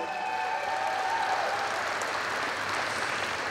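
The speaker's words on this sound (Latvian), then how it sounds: "Aplausi viņai vēlreiz!" An audience in Riga's Arēna Rīga arena claps steadily at a State Police anniversary celebration, a broad, even wash of applause with a faint tone fading early on.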